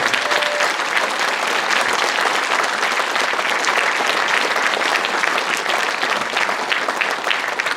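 A large crowd applauds loudly and continuously at a formal sports-association inauguration ceremony in Sejong, dense clapping that stays level and close throughout without pause or speech.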